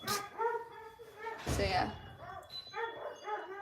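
A dog barks and yips several times in short bursts indoors while a person talks over it, the barks mid-loud and close.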